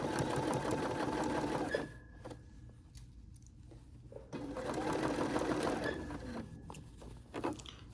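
A Bernina sewing machine runs close in two stitching bursts separated by a quieter pause with a few soft clicks and handling sounds.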